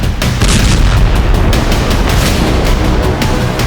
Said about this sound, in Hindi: नहीं तो मिन्स्क में होता ऐसा ही जोरदार धमाका